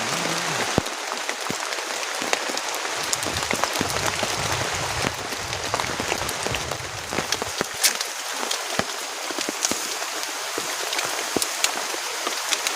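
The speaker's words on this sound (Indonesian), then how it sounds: "ini masih turun hujan sekarang, dingin banget" Heavy rain pounds a camping shelter during a stormy downpour, a dense, steady hiss and patter with occasional sharper drops striking close by, and no voices.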